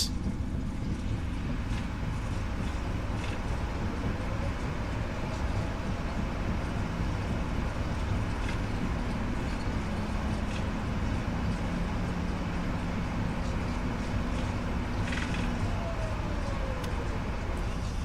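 Jet engines of a PMDG 777 spool into reverse thrust on landing in MSFS 2024, a steady loud rumbling roar that holds without a break, with no one speaking over it.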